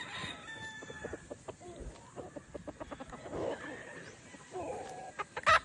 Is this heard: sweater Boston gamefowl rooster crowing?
yes